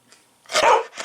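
A single loud, close dog bark at a dog park in Greendale, Indiana, with a quieter yip trailing right after it.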